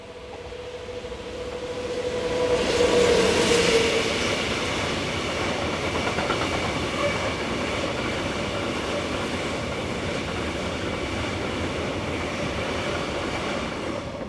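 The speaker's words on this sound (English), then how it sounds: "A set of powder hoppers are taken north by 26125 at just after 6:30 in the evening." Locomotive 26125 hauls a set of powder hoppers north on a French line in the evening, a steady rumble and clatter of wagons passing nearby for the whole stretch, with a brief squeal early on.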